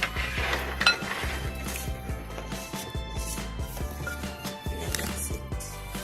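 Melted edible slime is mixed with powdered sugar in a bowl. A utensil clinks and scrapes against the bowl in quick, uneven strokes, close up and moderately loud.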